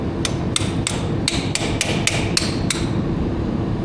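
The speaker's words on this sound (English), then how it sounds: "this new ball peen hammer works great." Repeated ball peen hammer blows on a car's rear axle during oil cooler and axle work, about nine sharp metallic strikes in an uneven rhythm, close and loud over a steady low background.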